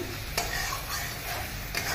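Vegetables for shukto, potato among them, being stirred as they fry in a pan: a steady frying sizzle with two sharp scraping strokes of the spoon, close and clear, no voices.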